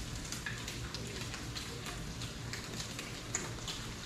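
Redfish frying in bacon grease on a Blackstone griddle, a steady soft sizzle and crackle with faint pops throughout, quiet and continuous with no talking.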